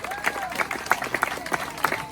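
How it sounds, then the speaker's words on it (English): An audience at a freedom rally claps in a sparse, uneven patter of separate claps, fairly faint and brief. "Give a round of applause, guys."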